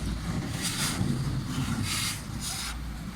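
Breath blown through a large hole in a homemade firecracker, heard as three soft, airy puffs over steady low rumbling background noise, close to the microphone.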